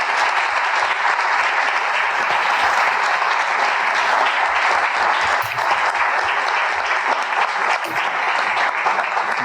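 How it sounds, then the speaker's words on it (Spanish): A seated audience applauds steadily after a presentation, a dense, continuous clatter of many hands that holds at even loudness for several seconds, fairly close. "Un aplauso."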